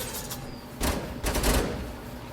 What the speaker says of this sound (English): This is also a legendary minigun, so it's really fun to use.